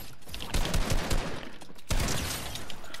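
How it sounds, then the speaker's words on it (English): Video game gunfire strikes a wall in two loud bursts of rapid shots, close and harsh, separated by a short pause, with no talking over them. "Ooh, I shot the wall."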